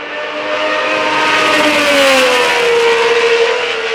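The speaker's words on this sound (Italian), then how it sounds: "12 cilindri Ferrari, definibile una melodia." A Ferrari V12 Formula 1 engine revs loud and close, a smooth high-pitched howl that climbs and holds steady for several seconds, with no voices.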